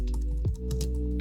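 Typing on a compact non-mechanical keyboard in a travel desk setup with a Mac Mini, a steady run of soft, close keystrokes with no voices.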